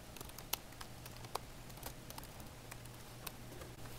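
Soft, sparse keystrokes on a computer keyboard while typing a numbered list in Google Docs, faint and irregular over a low steady hum.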